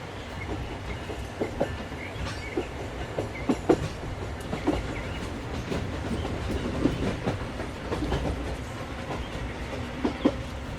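A train rolls steadily along its tracks, with a continuous low rumble and repeated rhythmic clicks and clacks close by, and no talking.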